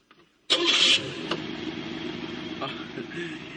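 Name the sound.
car engine starting after refuelling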